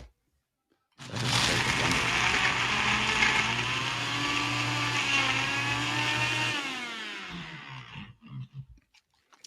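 A blender whirs loudly for about six seconds while blending a peach Bellini mocktail, its motor pitch shifting as the contents churn, then winds down with a few brief knocks and rattles afterward.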